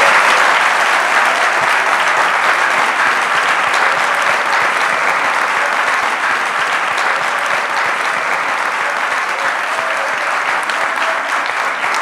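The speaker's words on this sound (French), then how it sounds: "On vous applaudit." A school audience applauds continuously at a brunch event in Lyon, a dense, loud, even clapping that holds steady for the whole stretch with no talk over it.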